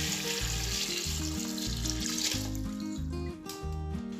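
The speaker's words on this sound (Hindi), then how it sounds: "अब हम इसमें इतना सा पानी ऐड कर देंगे जिसमें हल्दी अच्छे से उबल जाए।" Water pours steadily from a tap into a large pot holding washed turmeric, a continuous rushing splash with a rhythmic low gurgle, close and fairly loud, with no talking.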